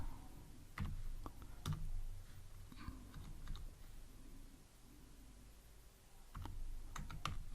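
Typing on a computer keyboard, quiet and close, with scattered irregular key clicks in short bursts and pauses over a low background hum.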